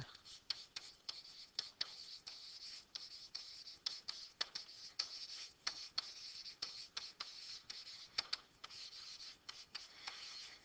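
Pen or marker strokes writing out a math lesson on a board or paper, with steady scratchy strokes and short taps repeating close by through the whole stretch, with no talk over them.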